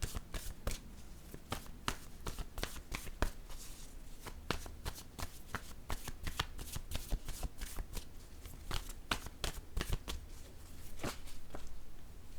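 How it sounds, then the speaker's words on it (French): Tarot cards are shuffled over and over, producing a steady run of crisp riffling flicks and soft slaps. The sound is close and fairly quiet, with no talking. "Allons-y maintenant avec la carte mot."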